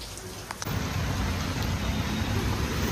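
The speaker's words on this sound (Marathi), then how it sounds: "खूप जोरात पाऊस पडतो आता इथे" Heavy monsoon rain at Mulgaon pours down in a loud, constant roar that swells suddenly after a brief quieter moment.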